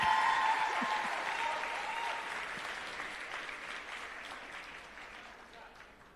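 Audience applause for scholarship recipients at a memorial scholarship awards ceremony, a steady wash of many hands clapping that gradually fades over several seconds.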